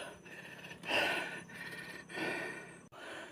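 Person panting heavily while walking a narrow hillside trail at night, several loud, close breaths in and out with short pauses between them.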